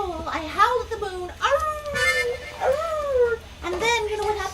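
A human voice imitates a wolf howling at the moon, producing a series of rising and falling drawn-out howls with short gaps between them.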